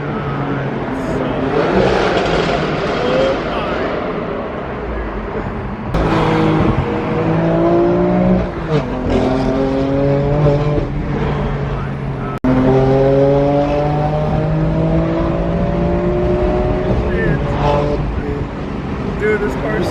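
A BMW M3 accelerates hard through several gear changes, its engine note climbing in repeated rising sweeps that cut briefly at each shift, loud and close as though heard from inside the cabin.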